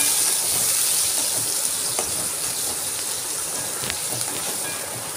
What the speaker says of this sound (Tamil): தக்காளியும் சேர்த்து இந்த வெங்காயத்தோடு நல்லா வதக்கி விடுங்க.